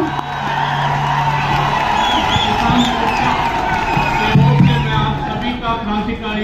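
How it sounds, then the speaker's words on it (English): A rally crowd in Delhi protesting ethnic violence against Kuki-Zo tribals in Manipur claps and cheers for the next speaker, a loud, steady roar of applause and whoops that stays dense throughout, with voices mixed in. "Can we have another round of applause for our next speaker?"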